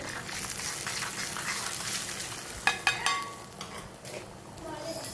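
Chili and garlic paste sizzles and fries in a hot pan with a few stirring scrapes and utensil clinks partway through, steady and fairly close, no voices.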